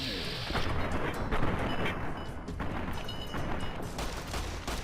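Dense gunfire and explosive booms from the video game Fallout New Vegas form a loud, continuous barrage of overlapping shots and impacts.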